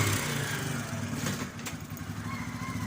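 A 400cc motorcycle engine runs steadily close by with a low, rumbling idle pulse, and faint voices sit underneath it.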